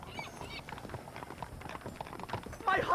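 Horse hooves clip-clop steadily in the Red Dead Redemption video game, a close, even trot running the whole time beneath a voice.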